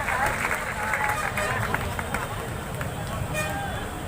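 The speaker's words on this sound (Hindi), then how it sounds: "एक बार तालियों से आदेश कीजिए।" Audience applause fills a poetry gathering at an all-India kavi sammelan in Lakhimpur Kheri, a dense, steady wash of clapping with crowd murmur running throughout.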